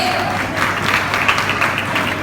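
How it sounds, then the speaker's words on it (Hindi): Parents at a school cultural event clapping for a child who has just received an award, a steady, dense round of applause from the crowd for the whole stretch. "क्लैप करिए प्लीज पेरेंट्स"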